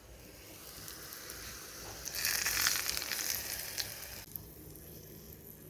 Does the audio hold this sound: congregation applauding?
no